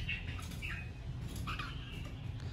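A caged songbird gives short, squawky chirping calls in bursts over a steady low hum, fairly faint and fairly close, with no talking.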